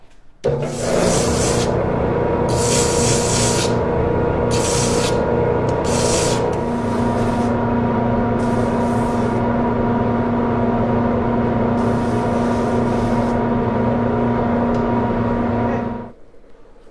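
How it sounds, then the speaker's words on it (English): A small hand sander fitted with little 1-inch pads works a wooden craft piece, producing a loud, steady motor whine under raspy scraping bursts for about fifteen seconds before it cuts off. "So then I have to use a little hand sander."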